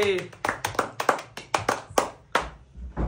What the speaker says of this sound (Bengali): চলো জোরে হাততালি হোক, জোরে হাততালি হোক